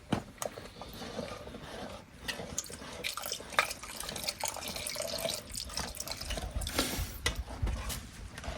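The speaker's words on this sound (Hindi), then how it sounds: "अब थोड़ा इसमें पानी और डालेगा धीरे धीरे" Water trickles slowly and steadily into a bowl of gram flour batter, a close, continuous splashing and dripping with small clinks, no one talking.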